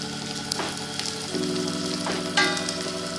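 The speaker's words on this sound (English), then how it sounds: "Now we'll be saute this chopped onion. Then add some chopped green chilies." Chopped onion and green chilies sauté in a hot pan for an elephant foot yam fry, a steady close sizzle broken by a few sharp scrapes and stirs of the utensil.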